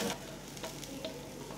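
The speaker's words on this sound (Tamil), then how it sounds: "இது லேசாக 1/2 ஃப்ரை கண்டிஷனுக்கு வர வரைக்கும் இந்த வெங்காயத்தை வதக்கிட்டே இருப்போம்." Onions and garlic fry quietly in oil for chicken mandi biryani, a soft steady sizzle with a few light clicks of stirring, brief and close.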